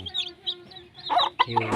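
Several chickens cluck and call close by, with a louder burst of overlapping clucking toward the end.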